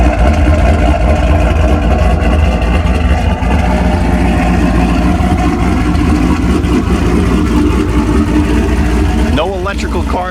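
A deep, throaty hydrogen-fueled V8 HEMI engine rumbles loudly and steadily up close, then briefly revs higher near the end.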